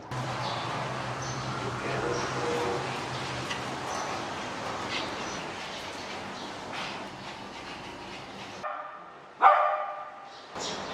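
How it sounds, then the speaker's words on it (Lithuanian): A dog barks in the distance amid a continuous rumbling background, then one louder, sharper bark near the end after a sudden quiet. "Šis šuo labai loja."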